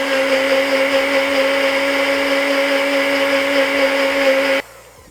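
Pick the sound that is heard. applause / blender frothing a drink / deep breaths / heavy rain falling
blender frothing a drink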